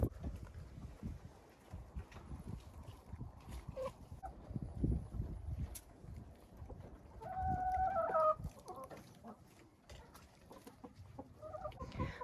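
Chickens and a rooster in a winter coop cluck and murmur at low volume nearby, with one louder drawn-out call partway through among scattered rustles and knocks.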